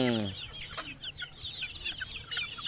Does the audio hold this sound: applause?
no